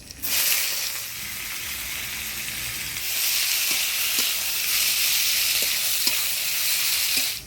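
Chopped onion goes into hot oil with whole garam masala, dried red chillies and bay leaves for a mutton curry. A loud, steady hiss swells after a few seconds, with occasional soft clicks of stirring through it.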